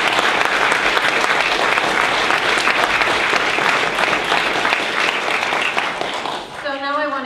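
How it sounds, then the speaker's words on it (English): An indoor audience applauds steadily and fairly loudly at a political speech, dense clapping that carries on for several seconds before fading near the end. "I'd like you to give them all a round of applause."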